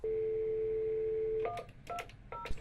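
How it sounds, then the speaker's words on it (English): A steady telephone dial tone hums for over a second before a handful of sharp keypad beeps punch in as a call is dialed, close and clear. "I give them a call and got voicemail."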